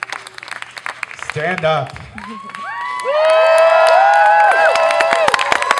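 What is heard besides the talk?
audience clapping and cheering for class teachers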